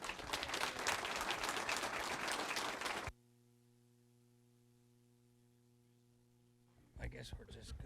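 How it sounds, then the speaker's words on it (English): An audience at a rodeo night event at a museum breaks into dense, loud applause that stops abruptly. A low electrical hum follows, then scattered clapping returns near the end. "Let's give them a warm round of applause"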